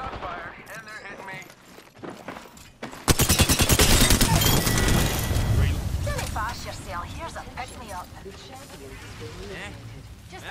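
Rapid automatic gunfire in Apex Legends ranked play, a sudden loud burst of shots after a quieter opening, continuing in bursts under a voice talking.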